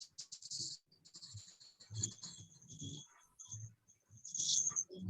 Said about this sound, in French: Le clavier est un peu sensible.